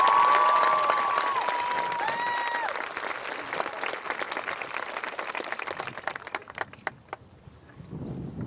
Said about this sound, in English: let's give them a round of applause for their work